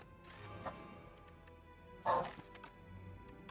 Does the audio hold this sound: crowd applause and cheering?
no